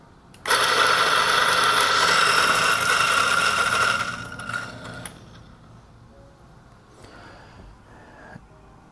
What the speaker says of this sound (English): Actually, let me grind the rest out.